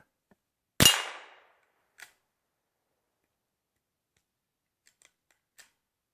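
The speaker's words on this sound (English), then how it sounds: "Sure Shot single shot 22. We'll be shooting at 15 yards." A single-shot Sure Shot .22 rifle fires once at a 15-yard target, a sharp crack with a short decaying tail, followed by faint clicks and handling ticks in otherwise near silence.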